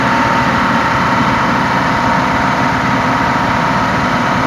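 A Jeep XJ engine idles loudly and steadily up close during a Seafoam carbon cleaning, a constant dense rumble that never changes pace for several seconds, with no voices.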